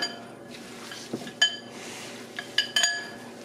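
Burger mixture with jalapeno peppers and mushrooms being mixed in a bowl, heard as quiet stirring with a few sharp metallic clinks of a utensil against the dish, close by and alone.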